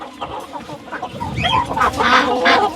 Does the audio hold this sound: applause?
no